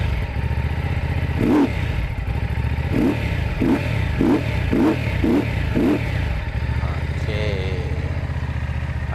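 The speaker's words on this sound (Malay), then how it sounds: "Jadi itu adalah bunyi Benda Chinchilla ni." A Benda Chinchilla V2 motorcycle idles with a lumpy, throbbing beat, then takes a run of about six quick, evenly spaced throttle blips before settling back to idle.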